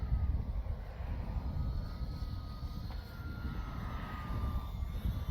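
A radio-controlled model airplane's small engine whines faintly at a distance, a thin high drone drifting in pitch over a low rumbling background.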